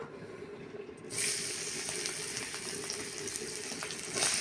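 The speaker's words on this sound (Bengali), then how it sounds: "এবার আমি এখানে ভাজবো হচ্ছে গাজর" Carrot pieces frying in a pan with oil after tomato and egg, a steady hiss and sizzle that jumps louder after a brief quiet start and again near the end.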